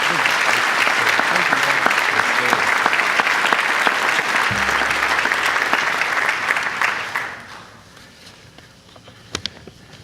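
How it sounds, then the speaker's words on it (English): Audience applause at a high school honors program ceremony, a dense steady wash of clapping for a student that fades out near the end, leaving a few stray claps. "Let's give him a big round of applause."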